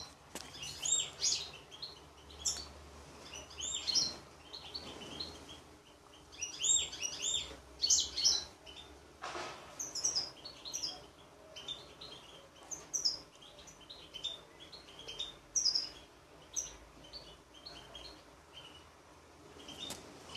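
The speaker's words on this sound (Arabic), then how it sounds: "هذه عينة من الطيور" Small caged birds being sunned chirp and tweet in quick, overlapping bursts throughout, moderately close, with a low hum underneath and no talking.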